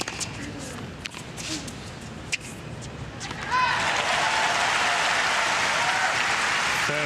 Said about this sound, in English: And the crowd there, but just a little louder, stronger support there after Isner winning the point.